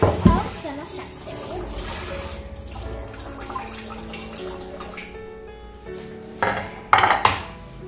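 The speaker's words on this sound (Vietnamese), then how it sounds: "Đầu tiên là phải rửa khóm cho nó sạch sẽ." Fresh pineapple being rinsed under a running tap in a home kitchen, water splashing and trickling with occasional clinks of dishes, fairly close, and a burst of louder splashing near the end.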